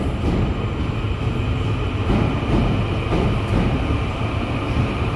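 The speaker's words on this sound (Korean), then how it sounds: "정확한 시간에 ITX 청춘열차가 들어옵니다." An ITX-Cheongchun double-decker train pulls into a Korean station platform, a loud steady rumble of wheels and rail noise close by, continuous throughout with no speech.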